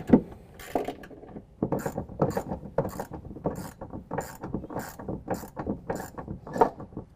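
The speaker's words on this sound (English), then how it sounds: "now we need to tighten down the 2 bolts holding our C channel to our ammo can on our driver's side" A hand ratchet clicks in quick repeated bursts as it tightens two bolts holding a C-channel to an ammo can in a DECKED truck bed storage system on a 2016 Chevy Colorado, close and clear with no talk.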